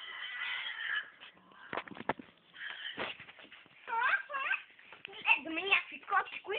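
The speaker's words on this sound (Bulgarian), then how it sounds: "Гледаме някакви котки, които се бият." Cats fighting, heard as rising and falling wavering yowls and strained cries, moderately loud, mixed with nearby human voices.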